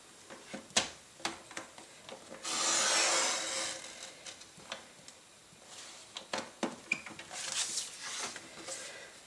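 Cardstock being cut by hand for a card-making project, stopped at a scored fold line: a series of short crisp ticks, scrapes and rubs, with one longer steady scrape in the middle, close and fairly quiet.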